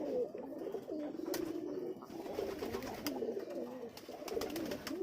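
Pakistani pigeons cooing steadily in a loft, a continuous layered murmur of close coos with a few sharp clicks and flutters, no talking.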